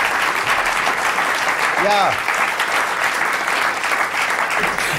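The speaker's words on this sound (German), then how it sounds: "Wahnsinn, so viel Applaus." Steady applause from a large audience at a literary reading fills the whole stretch, with a brief voice speaking over it partway through.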